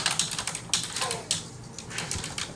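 Someone types loudly on a computer keyboard, a close run of sharp, uneven key clacks with brief pauses between bursts.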